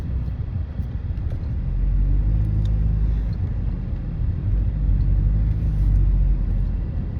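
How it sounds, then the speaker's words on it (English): Steady interior engine rumble from a car moving through traffic while merging, low and continuous, swelling slightly as it accelerates, with no voices. "I'm trying to merge into traffic"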